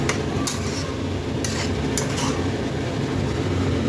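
Pasta being stirred into sauce in a pan, a continuous dense sizzle with a few sharp spoon taps against the pan spaced out at irregular intervals.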